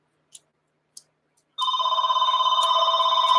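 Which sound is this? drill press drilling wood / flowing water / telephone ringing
telephone ringing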